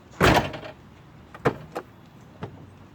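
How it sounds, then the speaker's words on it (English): The driver door of a 2003 Dodge Grand Caravan, just repaired, opens with a loud mechanical clunk of the latch, followed by a few smaller knocks and clicks spaced over the next couple of seconds. "And the door opens."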